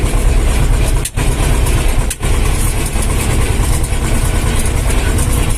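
A T-25 tractor engine runs loud and close with a steady, rough diesel drone, broken by two brief dips in the sound.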